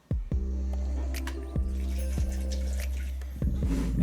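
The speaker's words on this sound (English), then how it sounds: "Let's add a little bit more water." Water is poured into crystallized honey in a mead-making vessel, a steady close trickle with a few small splashes and drips.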